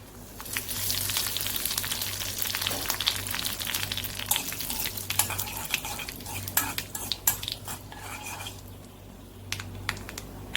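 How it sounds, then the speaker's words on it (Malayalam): Curry leaves dropped into hot oil with popped mustard seeds, stove already off, while making Thrissur-style cucumber kichadi; a steady close crackling sizzle runs throughout, with sharper scattered pops toward the end and no talking. "നമുക്കിതിലോട്ട് കറിവേപ്പില ഇട്ട് കൊടുക്കാം."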